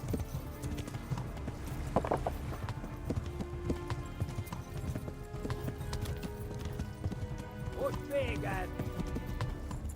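A horse gallops in the video game Kingdom Come: Deliverance, its hooves beating a steady, close clip-clop rhythm throughout, with a brief voice-like call or whinny near the end.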